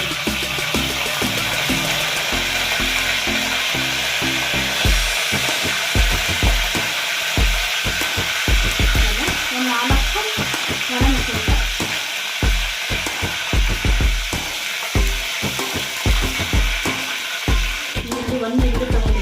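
Mustard seeds and cumin sizzle in hot oil, a loud, continuous fry with rapid crackling pops and scraping stirs, close to the pan. A low musical hum sits under it.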